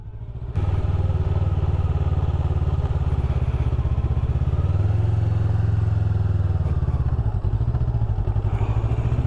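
A motorcycle engine runs steadily close by, a loud low throbbing drone that holds through a slow U-turn on a hill, with a slight rise in revs midway and no talk.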